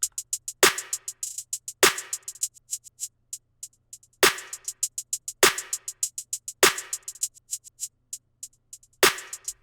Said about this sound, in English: I add the clap, and it's going to sound like this